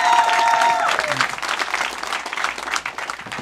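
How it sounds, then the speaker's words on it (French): A live audience at a comedy podcast show in Longueuil breaks into applause, a full crowd clapping steadily for several seconds while a voice briefly sounds at the start. "Est-ce qu'on peut applaudir Les Fallopes?"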